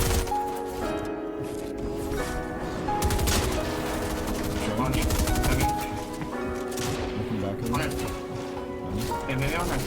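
Bursts of gunfire in a Fortnite-style video game, scattered shots and short volleys, come through alongside building and game effects while a person talks over the action.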